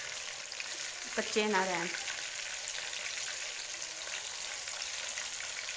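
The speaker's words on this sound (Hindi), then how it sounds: "तो तुसी इनू हल्की आंच से फ्राई करना ताकि अच्छी तरह अंदरों ही" Chicken koftas frying in oil on low heat, a steady close sizzle running throughout, with a short spoken phrase briefly over it.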